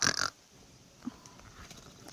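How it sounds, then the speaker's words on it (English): Pigs rooting through brambles at night give a sharp, close squeal at the start, then quieter grunts and rustling follow in a faint, still background. "Apparently those are pigs."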